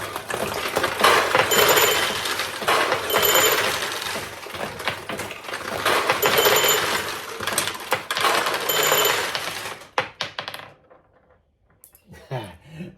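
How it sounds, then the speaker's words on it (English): A restored 1975 Sankyo Comet II pachinko machine rattles with busy metallic clatter as steel balls pour and tumble out for about ten seconds, then cuts to near silence with a few faint knocks. "So when you get a win, this light will come on and 14 balls come out here."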